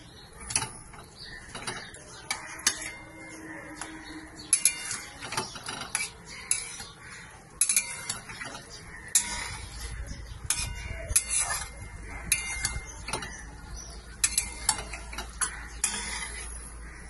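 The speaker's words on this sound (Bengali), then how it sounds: "এটা দিয়ে একটু হালকা করে নাড়িয়ে দেবো" Fried paneer is stirred lightly in a pan. A utensil clicks and taps irregularly against the metal, sometimes in quick bursts, over a faint background.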